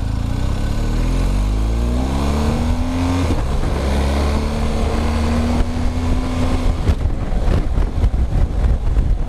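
A 2020/2021 BMW R 1250 GS motorcycle engine accelerates hard and close. Its pitch climbs, drops briefly at a shift, then climbs again, with growing wind rush toward the end.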